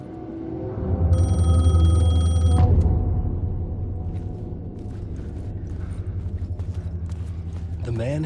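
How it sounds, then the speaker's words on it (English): A payphone rings in Alan Wake 2, a loud electronic bell trilling for over a second before cutting off, followed by low mechanical rumble and clicking, then a brief ring starts again at the end. "The payphone was ringing."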